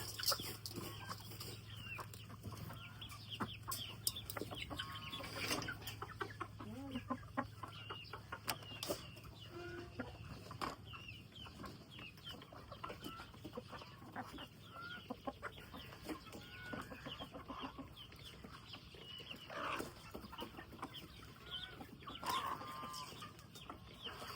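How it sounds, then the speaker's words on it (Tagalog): A rooster and hens in a backyard flock cluck and call in scattered, faint bursts over a quiet outdoor background, with no talking. "Ka-BSK, tingnan mo yung tandang"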